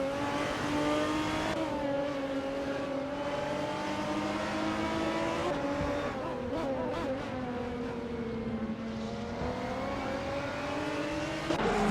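Video game GTR race cars circuit Road Atlanta with a steady, loud engine whine that swells and dips as they accelerate and shift. A few machines overlap, and there is no talking.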